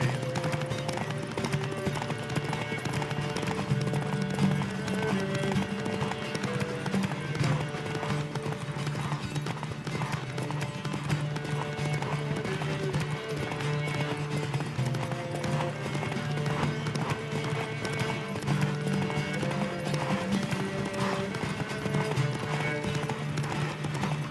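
Racehorse hooves galloping in The Witcher 3: Wild Hunt, a fast, steady clip-clop that runs throughout over a game music bed, with a faint occasional snort or whinny.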